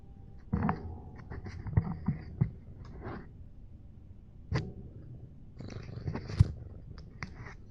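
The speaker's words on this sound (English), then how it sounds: "You can hear her little purring there." A small pet cat purring softly and close by, a low steady rumble broken by a few louder handling bumps and rustles.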